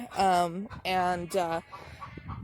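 Chickens cluck and squawk close by in a few loud, harmonic bursts, then quieter clucking trails off in the background.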